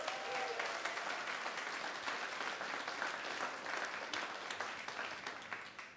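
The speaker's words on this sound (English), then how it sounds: "Big applause, please." An audience at an open mic night during a fashion festival applauds steadily for several seconds, a dense, even patter of many hands heard from a distance and fading slightly at the end.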